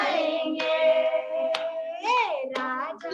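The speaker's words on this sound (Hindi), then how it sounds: "सब मिलके गाएंगे, ताली बजाएंगे" A church congregation claps along in a slow, roughly once-per-second beat during a Hindi worship song about Jesus, the sharp hand claps sitting under loud, sustained group singing.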